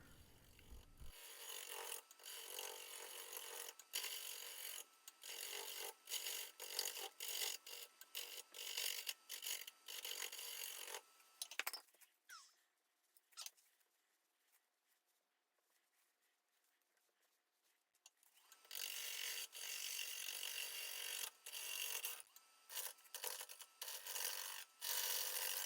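A wood gouge cuts a yew bowl on a lathe with a continuous rough, scraping hiss, broken by a quieter pause in the middle before the cutting resumes, steady and close.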